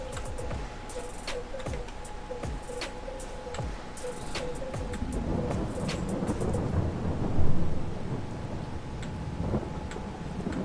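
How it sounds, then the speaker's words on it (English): Thunder rumbles under steady rain in the Farming Simulator 22 video game, with a run of sharp ticking clicks early on and a deeper, swelling roll of thunder midway through a continuous stormy wash. "And the thunder"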